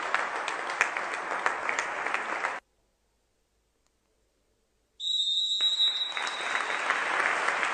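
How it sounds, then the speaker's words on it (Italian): Applause at a women's futsal match ends a minute of silence: steady clapping from a crowd, then a silent gap, then the clapping resumes with a sustained whistle-like tone over it. "si conclude con l'applauso il minuto di raccoglimento"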